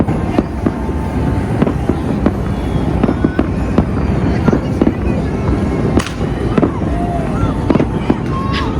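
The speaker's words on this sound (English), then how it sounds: "The Google AI says 8 minutes of fireworks starting at midnight." New Year's Eve fireworks over the Las Vegas Strip crackle and pop continuously in a dense, loud barrage, with sharper bangs standing out and a crowd murmuring beneath.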